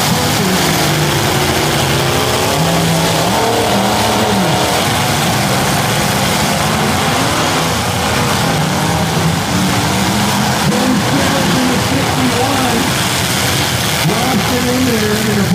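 Truck engines roar steadily at a dirt-track truck derby, a dense, loud crowd of motors revving and grinding for the whole stretch, with faint impacts in the mix.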